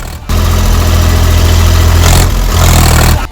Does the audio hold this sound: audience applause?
no